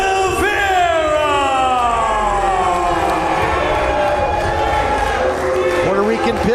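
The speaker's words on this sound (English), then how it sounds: "And the crowd split here, certainly a resounding appreciation for EJ Sparks." A live wrestling crowd cheers and shouts for a state championship bout, a loud, sustained roar in a hall while an announcer talks over it.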